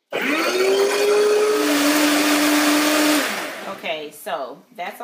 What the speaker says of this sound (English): They're not chopped because this blender is pretty powerful.